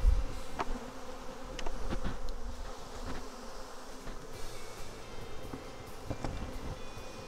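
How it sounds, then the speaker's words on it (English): Honey bees swarm and buzz around a freshly assembled hive during a split of a defensive colony, a steady close insect drone with individual bees zipping past, no talking. "Let these bees go ahead and run up in there."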